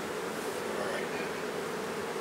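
Honeybees buzz densely and continuously during a beehive inspection, a close, steady swarm drone with no break.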